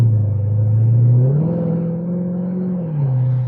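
A Chrysler 300C SRT8, just out of limp mode, pulls away on a drive, its engine droning loud and close as the pitch climbs through a gear, eases back and rises again, with no talk over it.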